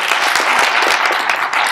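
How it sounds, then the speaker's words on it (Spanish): An audience at a camelid breeders' congress bursts into dense, loud applause, many hands clapping continuously and evenly throughout. "Hay que darnos un aplauso"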